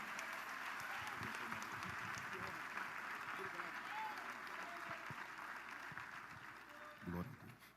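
A church congregation claps steadily in welcome of a pastor, a continuous wash of applause with a few voices calling out beneath it and a louder swell near the end.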